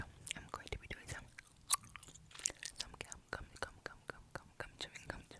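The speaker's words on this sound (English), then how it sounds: "Gum Chewing" Soft whispering mixes with close, wet gum chewing in an ASMR recording, with frequent smacking clicks and quiet mouth sounds in an irregular rhythm throughout.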